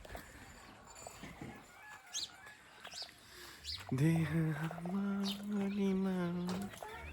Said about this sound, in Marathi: कोंबड्या एक कोंबडी आणि पंधरा पिल्यानं त्या मागे चार कोंबड्या चालतात